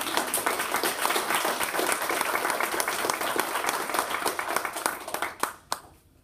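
A university audience applauds, with dense, steady clapping from a crowd that carries on evenly for several seconds before thinning out into a few last scattered claps.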